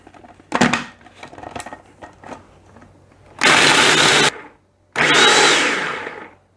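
Electric mixer blending a pecan pie cheesecake filling in a bowl, whirring loudly in two bursts of about a second and a second and a half, after softer clinks and handling noises.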